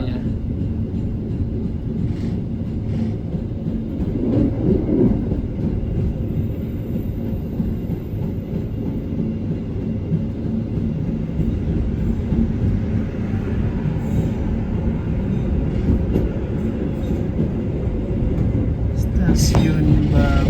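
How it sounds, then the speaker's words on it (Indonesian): Passenger train rolling through Babat station in Indonesia, heard from on board as a steady low rumble and rattle of the carriage that continues throughout, with faint voices in the background. "kereta kita melintas dari stasiun Babat"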